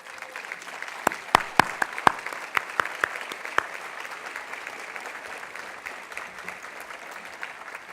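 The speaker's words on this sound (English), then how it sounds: "let us give them a warm round of applause" Sustained audience applause at a university commencement ceremony honoring retiring and long-serving faculty and staff, a dense wash of clapping from a large crowd with a few sharp, louder claps standing out near the start, gradually thinning.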